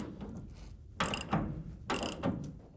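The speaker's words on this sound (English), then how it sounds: "you can tighten your hinge arm bolts as well as your hinge pins" A ratchet tightens the hinge arm bolts on the bed of a 1988 Chevy pickup being converted into a dump truck, two quick bursts of close clicking over quiet background.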